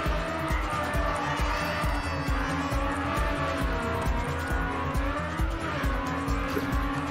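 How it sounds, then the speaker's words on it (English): A race car engine in the video game Trackmania Nations drones loudly and steadily throughout, with rhythmic shifts in pitch and bursts of tire squeal and skidding. "And it kind of sounds like IndyCar when you're going straight into"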